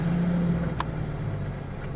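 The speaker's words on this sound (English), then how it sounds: "now we're going to test out my engine to see if I got the new one in there" A car engine runs right after an oil pressure sensor replacement, with a steady mid-pitched hum and a brief sharper whir near the middle. It sounds close and fairly loud, with no talk.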